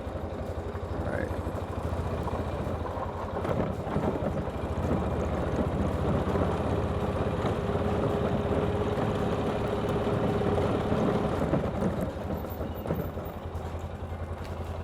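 A vehicle engine hums and clatters steadily at low speed while driving slowly through the streets of San Nicolás de Ibarra near Chapala, Jalisco, a constant close drone with faint voices underneath.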